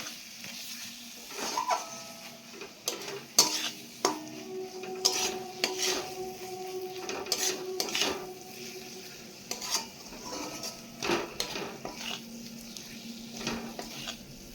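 Turmeric and chili powder paste frying in a pan while being stirred, soft sizzling under repeated scraping and rubbing strokes of a spatula against the pan, fairly quiet and close, no voices.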